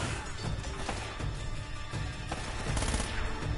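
Explosions and gunfire in the video game Uncharted: Drake's Fortune, a dense, continuous roar of shots and blasts with a louder burst near the end, with no voices.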